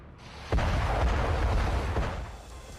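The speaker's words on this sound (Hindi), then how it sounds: "ईरान की राजधानी तेहरान के लाविजान इलाके में कई जबरदस्त धमाके सुने गए।" A deep, heavy boom from air strikes erupts, followed by a sustained low rumble with a few more muffled thuds, distant and rolling, fading toward the end, in the Lavizan area of Tehran, Iran.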